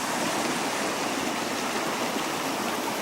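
A creek flowing through the rocky glen of Parfrey's Glen in spring, a close, steady, unbroken rush of running water with no pauses or talk.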